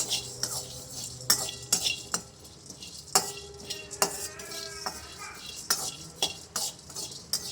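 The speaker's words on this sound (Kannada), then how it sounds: "ನೋಡಿ ಫ್ರೆಂಡ್ಸ್ ಇವಾಗ ಕಡಲೆಬೇಳೆ ಉರಿತಾ ಇದ್ದೀನಿ" Chana dal dry-roasting over a low flame in a pan: a spatula scrapes and clatters repeatedly against the metal at an irregular stirring rhythm, with a light sizzle underneath, close and moderately loud.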